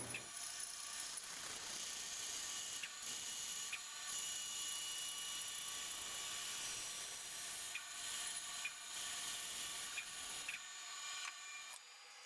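A wooden block being cut for a stacked wood-turning bowl, giving a steady, loud, high-pitched whine of a power saw that runs unbroken for most of the stretch before cutting off near the end.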